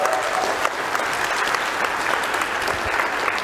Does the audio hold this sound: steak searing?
no